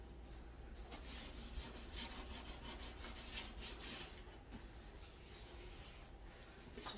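Hand sanding across an epoxy-coated wooden furniture surface, a steady rasping rub in repeated strokes, close and continuous with no talking.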